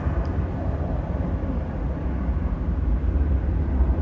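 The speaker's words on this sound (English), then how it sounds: "As you can see this plane taking off, you can see how close the airport is." A plane taking off near San Diego airport by the cruise port gives a steady, loud low roar of jet engine noise that fills the whole span without letup.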